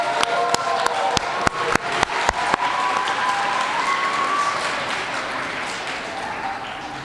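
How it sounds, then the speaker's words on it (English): Applause from an audience at a school event, with a string of sharp, loud individual claps or taps standing out early before the clapping settles into a softer sustained patter that fades. "can we have a round of applause for you, for all of you that made it happen"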